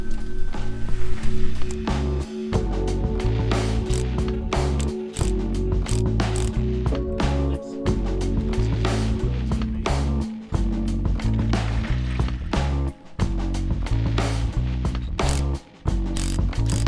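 Rapid ratchet clicking in close, loud bursts as a ratchet wrench undoes a bolt and nut on a 1988 Toyota van, with short pauses between runs of clicks and no talk.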